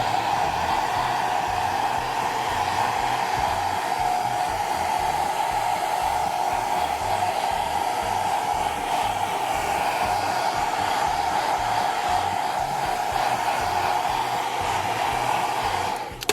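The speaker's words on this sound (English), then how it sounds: "The air from the hairdryer will sort of push it around." A hair dryer blows steadily on wet paint for a fake wood finish, a loud, unbroken whirring rush of air that runs alone for the whole stretch.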